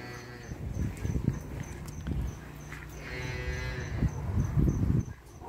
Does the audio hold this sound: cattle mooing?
yes